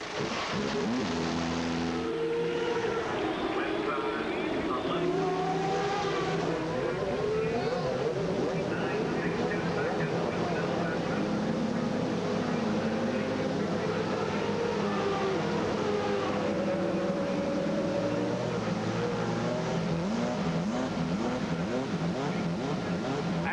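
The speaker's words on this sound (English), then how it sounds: "19 Ford Cosworth engines are brought to life" Nineteen Ford Cosworth Indy car engines fire up on the grid at the 2003 Vancouver Indy race, a dense, sustained roar of idling and blipping engines filling the whole stretch, with a commentator talking over it.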